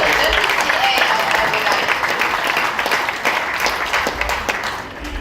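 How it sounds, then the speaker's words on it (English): An audience at a press conference in Abu Dhabi claps steadily, a full patter of many hands that gradually softens, with voices murmuring underneath. "we need to say clap for Lara"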